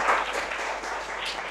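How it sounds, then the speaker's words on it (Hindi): A group of school children claps together in a classroom, a steady wash of applause with no pause, moderately loud throughout. "सारे बच्चे इनके लिए तालियां बजा दो।"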